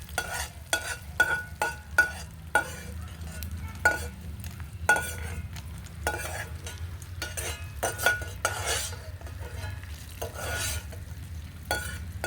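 Ingredients for a bottle gourd roti chutney stir-frying in a pan, with repeated sharp scrapes and clinks of a spoon against the metal over a steady low sizzle, close and fairly loud with no talking.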